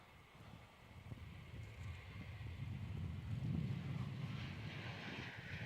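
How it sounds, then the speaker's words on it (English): A Qantas Boeing 737 airliner departs Melbourne Airport for Perth, a distant, low rumbling jet roar that swells gradually over several seconds amid wind noise. "Qantas 777 heading off to Perth."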